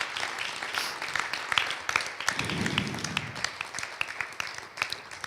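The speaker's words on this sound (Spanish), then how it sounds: "podemos dar un gran aplauso al Señor por las ofrendas y los diezmos" A church congregation claps together during a Sunday service, a few seconds of scattered hand claps over a low murmur of voices, moderately near and fairly steady.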